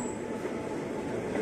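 A 12-car KRL commuter train bound for Bogor rumbles past on the Bogor line, a loud continuous roar of wheels and carriages with faint squealing and no voices.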